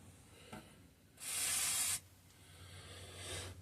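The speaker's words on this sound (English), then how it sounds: "I'm also going to shoot some penetrating oil on this fuel cap" Penetrating oil hisses from an aerosol spray can onto the fuel cap of a 1950s Bolens Power Ho tractor in one steady burst of just under a second, with faint handling noises before and after.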